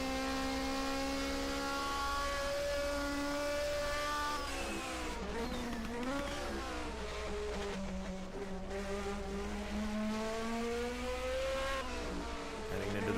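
Group 5 DRM Division 2 race cars from 1979 scream out of a corner at the Mainz-Finthen airfield circuit, a loud onboard engine drone rising through gears, with other cars audible close by.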